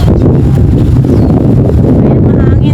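Loud, gusty wind in a park buffets and rumbles close by with constant low roaring, a faint voice briefly audible underneath.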